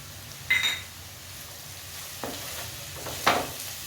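Ragi idiyappam being sautéed in a pan with onion and green chili, giving soft stirring scrapes and brief sizzles over a faint, steady hiss, with a few sharper utensil scrapes standing out.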